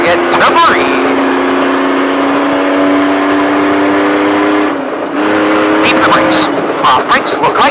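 A trophy truck at a Speed Vegas driving experience accelerates under throttle with a loud, close engine whine holding high revs, dropping briefly off throttle before picking up again, while a voice coaches over it.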